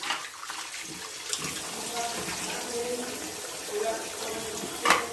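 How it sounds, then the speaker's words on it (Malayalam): Fish being washed under a running kitchen tap, a steady splashing stream of water that continues throughout, close and moderately loud, with brief louder splashes near the end. "ഇനി അതിനെ ഒന്ന് കഴുകട്ടെ."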